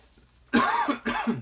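Two short, close coughs in quick succession, the second slightly weaker.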